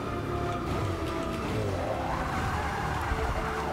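A 2011 Bugatti Veyron Super Sport brakes hard in Forza Motorsport 6, its engine droning loudly while the tires scrub and squeal under a continuous roar.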